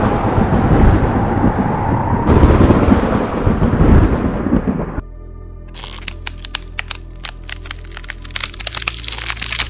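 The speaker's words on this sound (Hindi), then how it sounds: "अचानक हवा तेज बहने लगता है, बिजली कड़कने लगता है।" A loud roaring rush like strong wind fills the first half, then gives way to a run of sharp, crackling snaps of lightning.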